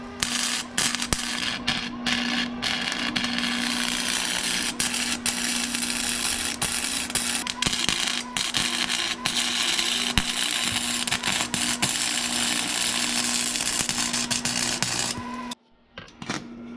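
A flux core welder on a low wire setting crackles and sizzles loudly and without a break for about fifteen seconds, with scattered pops, before cutting out.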